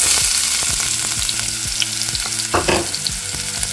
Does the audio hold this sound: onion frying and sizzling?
yes